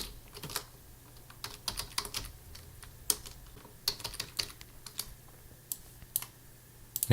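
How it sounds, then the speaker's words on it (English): Rapid, uneven keystrokes on a computer keyboard, close and fairly quiet, clicking in short bursts with brief pauses over a low steady hum, no voices. "so you just type whatever you want"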